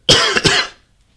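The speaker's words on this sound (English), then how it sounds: "I don't know why I keep coughing" A person with a dry throat gives a short burst of two or three close, loud coughs, then falls silent.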